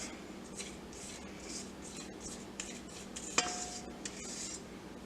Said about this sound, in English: I like to scrape that bowl clean as much as I can